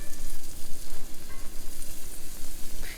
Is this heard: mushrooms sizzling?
yes